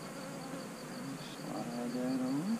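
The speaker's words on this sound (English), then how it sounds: "All these bees right here." Honeybees swarm around a backyard hive, a close continuous droning buzz with individual bees rising and falling in pitch as they pass, no speech.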